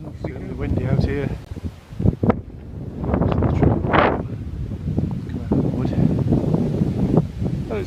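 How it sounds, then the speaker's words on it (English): Strong outdoor wind buffets the microphone in gusty rumbling bursts while a person talks over it. "It's really windy out here."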